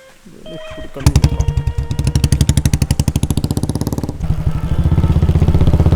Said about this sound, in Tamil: ராஜா அங்கே வண்டி நிப்பாட்டு, வாங்கிட்டு போவோம்